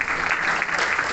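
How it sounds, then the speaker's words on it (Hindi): Dense, steady applause from a school audience cheering a schoolgirl student at a speech event in Sitamarhi, filling a brief stretch with constant loud clapping and no voices. "आप लोग बच्चियों का तालियों से"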